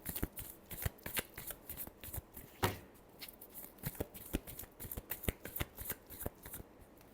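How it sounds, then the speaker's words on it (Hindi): A deck of cards being shuffled by hand, close and quiet: a rapid series of crisp riffling flicks and taps in uneven bursts, with one sharper snap partway through and no voices. "Last shuffle."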